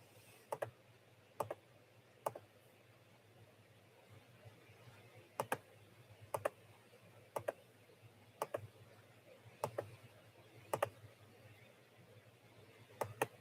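Clicks from drawing on a digital art tablet, sharp isolated ticks arriving in small pairs and singles at irregular intervals over a quiet steady hum.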